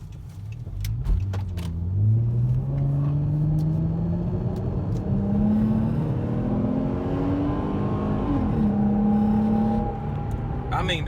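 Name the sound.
2012 Dodge Charger accelerating, throttle controller in Sport mode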